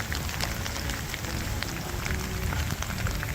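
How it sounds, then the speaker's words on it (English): Monsoon rain falls steadily in the desert, a dense, even hiss of drops striking the ground and surfaces, continuous and fairly close, with no voices. "we're getting the most significant rain we've had all year"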